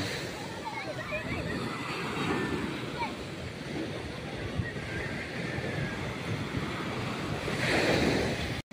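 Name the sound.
ocean waves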